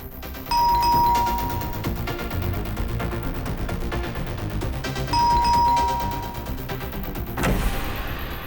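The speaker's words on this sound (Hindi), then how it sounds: "कितना घंटी बजाते हो?" A doorbell rings twice in succession, each a clear two-tone ding-dong chime over loud party music thumping in the background, followed by a brief knock-like thud near the end.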